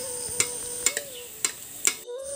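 Hot oil sizzles softly in a pan as it is spooned over a frying fish for a village-style tiffin, with four sharp metallic spoon taps against the pan spaced across the short stretch.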